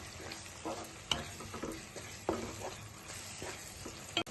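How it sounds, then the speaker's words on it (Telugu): Ground masala for an Andhra-style korameenu fish curry fries in oil as a spoon stirs it, giving a soft, close sizzle broken by several sharp scrapes and clinks against the pan. "నూనెలో మసాలాని ఇలా కలిపితేనే ఇది కూడా నూనెలో మగ్గనిద్దాము రెండు నిమిషాలు"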